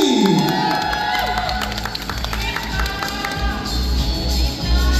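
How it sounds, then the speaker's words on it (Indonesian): Audience at a Puteri Indonesia pageant reunion event cheering and shouting loudly, with claps and whoops filling a large room, a sweeping tone at the start and steady crowd noise throughout. "boleh silahkan berikan suaramu untuk Putri Indonesia Ria Mita Indriani."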